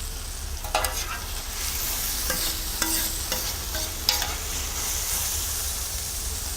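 Veal with mushrooms and cream frying on a plancha, a constant broad hiss with scattered crackles and a few sharp utensil taps, close and continuous, no one speaking.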